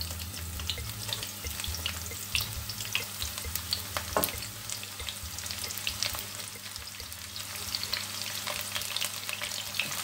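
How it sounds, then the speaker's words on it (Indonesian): Garlic and shallots sizzle steadily in hot oil in a pan, a continuous close frying hiss with occasional stirring scrapes and clinks, no voices. "aku lanjutkan saja untuk ini, untuk menggoreng"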